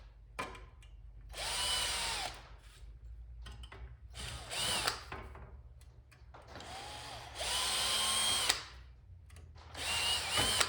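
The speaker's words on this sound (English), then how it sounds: "those are all drilled out" A power drill drilling into metal on an arcade machine control panel whines in several bursts of a few seconds each, close up, with short quiet gaps between runs.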